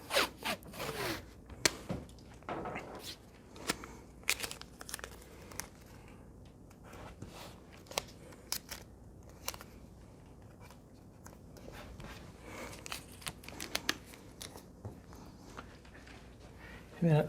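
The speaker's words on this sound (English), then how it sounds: "now using my painter's tape again, make another hinge" Painter's tape being torn and pressed into place as a hinge while hanging an Avery Dennison wall graphic, a run of quick ripping strips and crinkly handling noises, close by, with a person talking intermittently.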